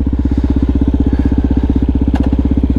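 A Suzuki DRZ400 dirt bike fitted with a Yoshimura RS2 exhaust, a 3x3 airbox mod and a jet kit idles close by. The single-cylinder thump is loud and evenly paced, with a faint click partway through.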